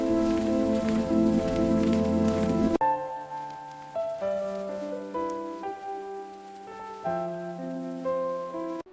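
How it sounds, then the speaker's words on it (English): Rain falls on an outdoor flower market in a steady, soft patter for about three seconds, then gives way to gentle, calm melodic music. "The rain is so peaceful."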